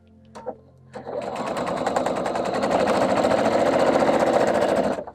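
A sewing machine stitches a quilt seam, starting after a short pause and running in a fast, even mechanical chatter that grows slightly louder, close by, then stops.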